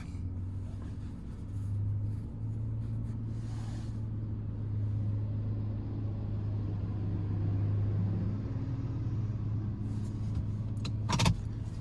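A vehicle driving out to the field with a newly bought seed drill, giving a steady low engine rumble and drone throughout, with a brief rattling clatter near the end.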